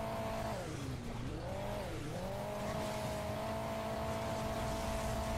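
A supercar in Hill Climb Racing 2 roars at a steady high pitch, dipping twice as the engine note drops and rises with tire squeal, then holding a constant game-engine drone throughout.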